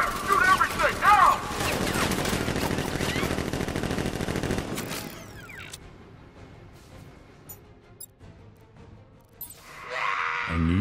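Guards fire rapid bursts of gunfire in Batman: Arkham Knight, loud and dense for several seconds before cutting away to quieter game sounds, with a voice speaking over the shooting.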